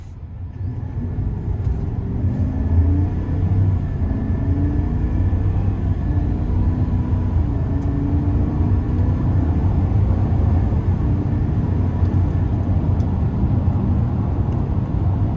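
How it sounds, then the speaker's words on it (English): A 2026 GMC Sierra 2500HD heavy-duty gas pickup accelerates with a steady, loud, low engine drone and road rumble that holds level throughout, with no talking over it. "So a pretty nice pull, and again, this is a heavy duty truck"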